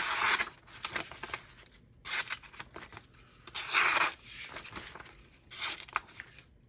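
Paper being cut with a cutting tool, heard in four crisp, rasping bursts separated by brief pauses. The bursts are close and moderately loud, with no talk over them.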